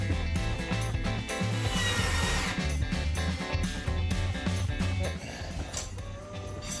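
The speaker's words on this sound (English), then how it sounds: "cut that PVC pipe to the length that I want it to be at the edge of the wall there" PVC pipe being cut by hand during electrical work on a house build, a busy close-up run of rapid rasping strokes continuing for about seven seconds with no talk.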